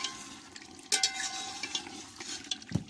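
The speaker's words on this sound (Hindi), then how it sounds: "अब हम इसके अंदर पानी डाल देंगे।" Water is poured into a large pot of cooking chicken and rice over an open fire. There is splashing and stirring with a few sharper clinks against the pot, at moderate level and close by.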